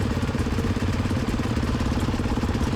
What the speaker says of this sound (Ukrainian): трохи раніше прогріваємо мотоцикли